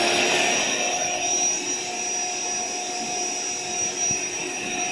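An electric air pump inflates an AeroBed Deluxe raised air mattress, giving a steady, loud, continuous whirring whine with no talking.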